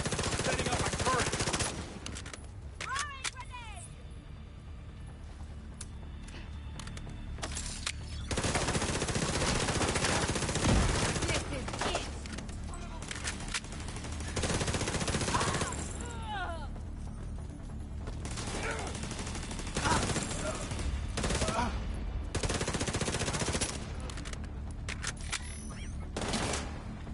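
Automated gun turret in The Division 2 firing repeated bursts of gunfire, loud and close, with a sustained battle din between the volleys.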